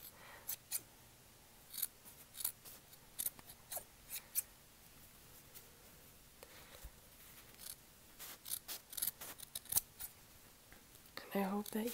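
Close, gentle scissor snips in an ASMR hair-cutting session, scattered sharp clicks of the blades spaced irregularly, quiet and near, with a brief soft rustle toward the end.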